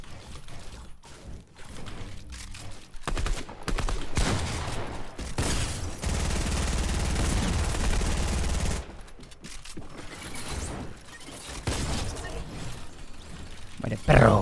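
Gunfire in the battle royale game Fortnite, including sniper shots: bursts of sharp shots and rattling fire with a sustained loud stretch in the middle, mixed with game clatter.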